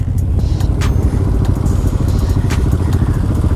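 A Yamaha MT-07 motorcycle being ridden, its engine a steady loud rumble throughout with light clatter and wind, heard up close with no talking.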